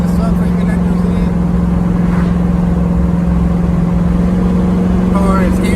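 A car with a 383 stroker engine driving along, a loud steady low engine drone with a constant hum and road noise throughout, fairly close, without pauses.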